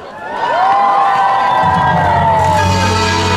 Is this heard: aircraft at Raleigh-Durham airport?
no